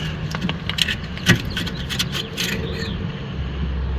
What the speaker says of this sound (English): And pull this caliper off